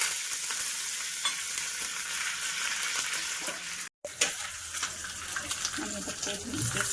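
Curry leaves drop into hot oil already crackling with cumin and mustard seeds, and the tempering gives off a loud, steady sizzle. There is a brief cut partway through, and the crackle picks up again afterwards with spitting bursts.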